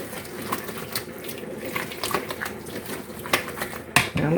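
Ham being stirred into a ham and cheese casserole mixture, a steady close scraping and clatter of utensil against dish with occasional sharper knocks, no talking.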